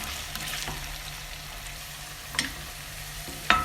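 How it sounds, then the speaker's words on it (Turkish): Meat sautéing in a pan as the base for a home-cooked dried bean stew, a steady soft sizzle throughout with a couple of brief clinks or stirs, close and fairly quiet with no talking. "Etleri böyle bir 5 dakika kavuracağız."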